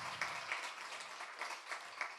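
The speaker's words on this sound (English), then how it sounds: "let's give a round of applause to this young lady" An audience at a community program event applauds, a faint, thin patter of clapping with a few sharper individual claps standing out, heard from some distance.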